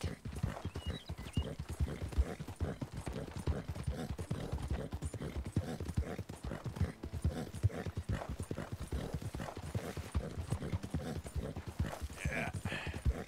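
Horse hooves clip-clop steadily in the Red Dead Redemption 2 video game, a dense, even rhythm of close, moderately quiet hoofbeats running throughout without a break.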